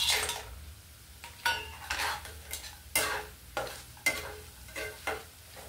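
Vadiyalu tipped into hot oil in a pan for an aratikaya bangaladumpa fry give a run of close clinks, scrapes and stirring knocks over a soft sizzle, repeating irregularly, with no voices.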